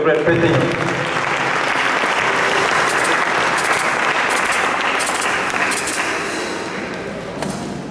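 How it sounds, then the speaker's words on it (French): A church congregation bursts into sustained applause, which holds steady and dense for several seconds before tapering off slightly toward the end. "Sous vos acclamations, s'il vous plaît"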